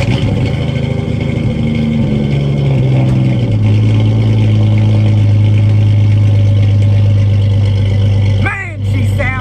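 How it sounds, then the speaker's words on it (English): Jeep XJ with a 5-speed, cold-started after sitting a week, its engine settling into a steady loud idle close by, with a brief burst of other noise near the end. "It's been a week, so how about a cold start?"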